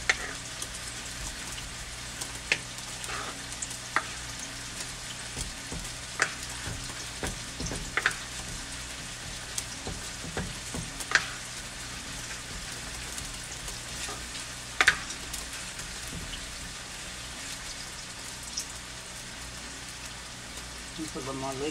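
Corn simmering and sizzling softly in a pan on a lowered heat, a steady gentle crackle with occasional louder pops, fairly quiet and close.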